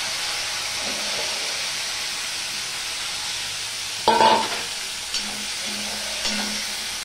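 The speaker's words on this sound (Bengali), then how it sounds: "সবার প্রথমে আমি ফুলকপিটা ভেজে নেব।" Cauliflower frying in hot oil seasoned with salt and turmeric, a steady close sizzle and hiss with a sharp clatter of stirring midway and a few softer knocks afterward.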